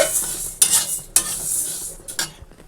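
Moong dal is dry-fried and stirred in a pan at home. A faint hiss carries under several sharp metallic scrapes and clinks of the spoon against the pan, close up with no voices.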